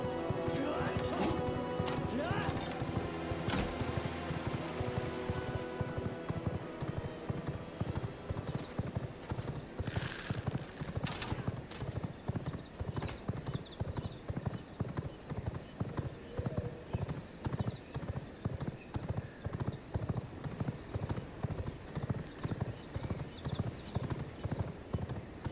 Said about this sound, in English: Hopefully there's a way to keep this horse.